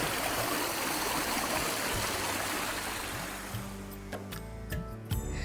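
Mountain water flowing in a steady rushing stream near hilltop temples in Dapoli, loud and continuous at first, then fading as faint clicks and other sounds emerge toward the end.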